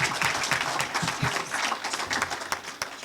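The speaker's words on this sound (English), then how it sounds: "Let's give a big round of applause for all of them" Guests applaud award winners at a coronation ball, a fairly quiet patter of many hands clapping with a few sharper individual claps standing out.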